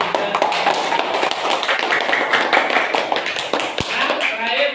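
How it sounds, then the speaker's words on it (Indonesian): A classroom of students clapping for a presenting group, dense continuous patter of many hands filling the room, with voices chattering underneath throughout. "tepuk tangan buat kelompok 3"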